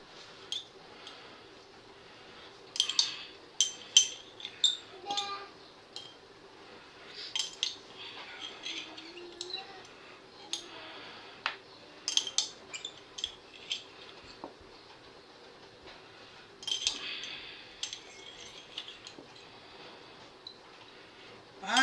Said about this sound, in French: Là on va les couper, hein, les capes